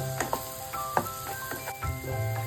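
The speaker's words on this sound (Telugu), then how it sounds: "ఈ క్యాప్సికమ్ ముక్కలు మంచి ఆయిల్లోనే మగ్గించుకోవాలండి" Capsicum pieces sauté in oil in a pan, giving a soft continuous sizzle with a few scraping stirs and light utensil taps at close range.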